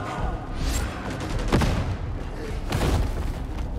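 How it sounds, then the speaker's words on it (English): A grenade goes off in Warhammer 40k: Darktide, sounding as heavy booming thuds amid dense, continuous gunfire and battle noise, with a couple of sharp blasts standing out from the steady roar. "I'm gonna throw a grenade"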